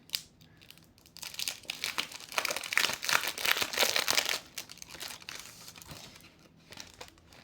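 Decorative paper is crinkled and handled close by, giving soft rustles that build into a denser burst of crackling in the middle and then fade back to light handling.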